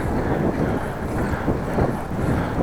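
Steady, loud wind buffeting the microphone on a bike ride into a headwind between Appingedam and Groningen, a dense continuous roar with no talk.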